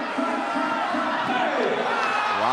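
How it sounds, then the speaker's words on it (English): A large crowd of fans cheering for Sri Lanka at a sports match, a continuous loud roar of shouting voices filling the space, with chants rising and falling throughout. "Sri Lanka has a lot of people cheering for them"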